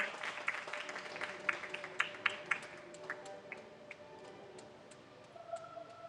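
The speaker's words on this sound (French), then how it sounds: "On applaudit à tout seigneur" Applause at a doctoral graduation ceremony as the university's president-rector enters, scattered hand claps sounding somewhat distant in a large hall, sparse and uneven, fading into quieter room noise toward the end.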